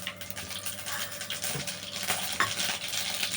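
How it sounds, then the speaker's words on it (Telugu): Mustard seeds sizzle and crackle steadily in a spoonful of hot oil, a continuous frying hiss with a few sharper pops, close and moderately loud with no talking. "ఇప్పుడు ఆయిల్ వేడెక్కిందండి. ఆవాలు చిటికెడు వేసుకున్నాము."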